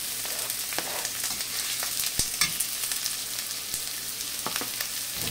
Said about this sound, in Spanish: lo primero que vamos a comenzar a hacer es a freír la cebollita